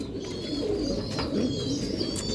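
Red-marked breeder pigeons, a female and a male, coo softly and repeatedly up close, low throaty calls rolling on over a faint background of other birds chirping.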